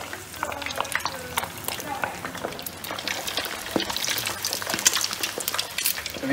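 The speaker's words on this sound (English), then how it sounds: "So we nicely deep fry them in the oil." Pork deep frying in hot oil for the Indonesian dish babi panggang, a steady crackling sizzle with sharp pops and bubbling, heard close and moderately loud.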